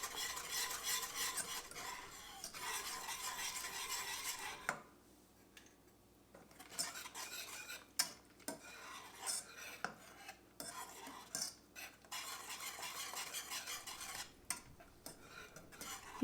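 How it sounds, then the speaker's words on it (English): Kadhi mixture being whisked in a bowl, rapid rhythmic clinking and swishing strokes close by, with a short quiet pause midway before whisking resumes. "Make sure you keep whisking all together."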